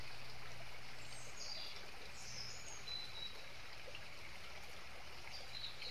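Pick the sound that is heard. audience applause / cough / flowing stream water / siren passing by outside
flowing stream water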